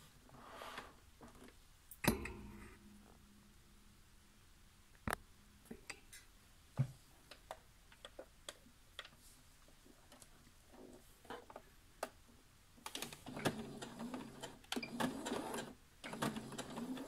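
A sewing machine stitches a short straight seam at the point of a V-neck on a T-shirt. Faint, scattered mechanical clicks are followed by a busy run of rapid stitching near the end.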